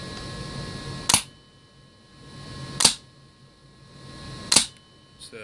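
An XCR airsoft gun at 90 PSI fires three single shots through a chronograph, each a sharp, close snap spaced about two seconds apart over a faint background hum.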